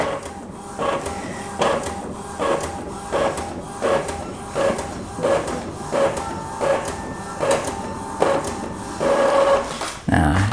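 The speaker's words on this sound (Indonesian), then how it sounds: "Kita lihat reaksi si printer." An Epson L3110 inkjet printer printing a black test page, giving a steady rhythmic series of mechanical carriage strokes and paper-feed whirring, close and fairly loud, repeating roughly every half second.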